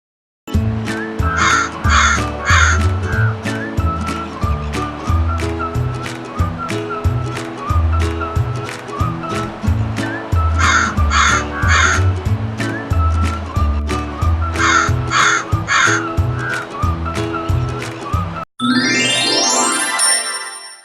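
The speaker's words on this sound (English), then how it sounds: "Crow" Crow cawing in three loud bursts of rapid harsh calls, repeating every few seconds over a steady rhythmic music bed that closes with a sparkling chime sweep.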